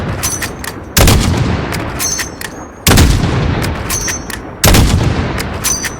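Three heavy, booming gunshots in the video game Call of Duty: Modern Warfare (2019) at regular intervals over a loud, continuous rumble of battle noise.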